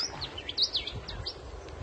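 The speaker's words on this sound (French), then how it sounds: "les petits oiseaux" Small birds chirp in quick high tweets, fairly faint, over a soft outdoor background.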